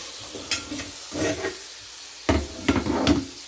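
Pork frying in a hot pan for quesadillas, with bursts of sizzling and scraping as the meat is stirred and turned, loud and close in several clusters separated by quieter moments.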